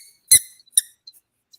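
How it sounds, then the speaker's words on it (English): A rubber toy alligator gives two sharp, high squeaks close up, then a few fainter chirps, with near-silence in between. "It ain't no duck, but it squeak."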